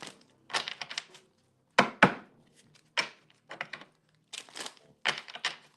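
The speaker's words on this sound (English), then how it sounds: "Let me get a couple more shuffles." A deck of cards is shuffled for a tarot-style reading, giving short bursts of riffling and tapping separated by brief pauses, close and fairly quiet with no speech.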